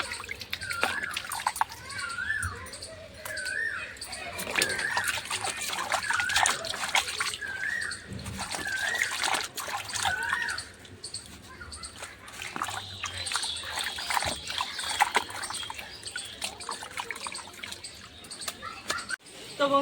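Pumpkin leaves washed by hand in water, splashing and trickling with close swishes throughout, mixed with birdsong and a voice speaking in the background.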